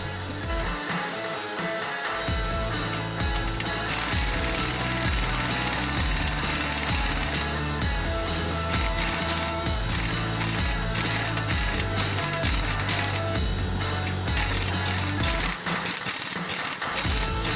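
An impact gun hammers at the track rod end nut on a Vauxhall Vivaro, giving a loud, rapid, rattling mechanical clatter that runs almost nonstop close to the listener, with only brief dips in intensity.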